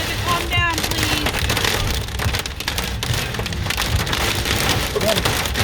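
Large hailstones pound down in a steady, loud, dense clatter on hard surfaces during a windstorm in Guthrie, with brief voices and a dog's whine breaking through the continuous din.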